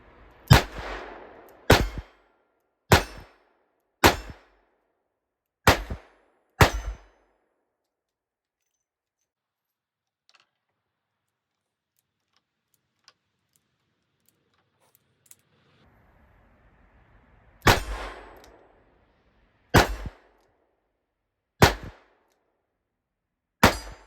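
A Smith & Wesson Model 64-2 stainless revolver fires six sharp, loud shots in a steady cadence, then falls silent through a long pause with faint handling noise, and four more shots follow at a similar pace.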